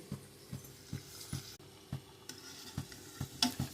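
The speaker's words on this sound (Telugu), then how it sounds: "మీడియం ఫ్లేమ్లో పెట్టుకొని బజ్జీలు ఇలా మాడకుండా తిప్పకుండా ఉందా అండి." Bhajji fritters frying in oil over a medium flame, a steady close sizzle broken by regular soft knocks and scrapes of a spoon turning them, with a brief quiet gap midway.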